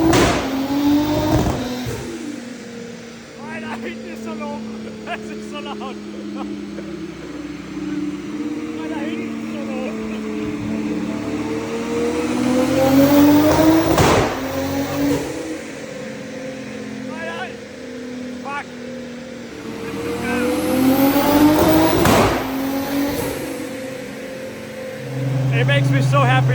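A 1000HP single-turbo Toyota Supra with an automatic gearbox runs and revs loudly close by, its engine note swelling and falling in repeated pulls, with people talking over it.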